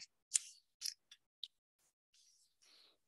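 Scissors snip through paper in a quiet room, a handful of short, crisp close cuts spaced irregularly, followed by softer sliding rustles.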